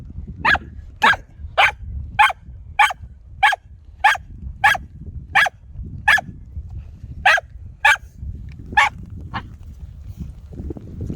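A happy dog playing with a stick barks about a dozen times outdoors, sharp and close, in a steady rhythm with short gaps and a brief pause near the end.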